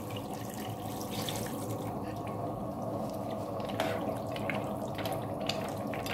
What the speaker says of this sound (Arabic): طبعا احنا سخنا المية هنضيفها عليها